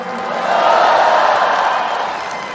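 A crowd at a Prabowo political speech claps and cheers in a dense, roaring wash that swells over the first second, then eases slightly while staying loud and sustained.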